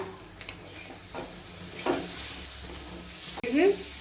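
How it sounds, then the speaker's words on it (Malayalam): Tomato goes into a frying pan with turmeric: a soft, steady sizzle with stirring scrapes and a couple of brief clatters, heard up close. "അതിലേക്ക് ഇനി ഈ തക്കാളി പഴവും കൂടെ ഇട്ട് കൊടുക്കുക"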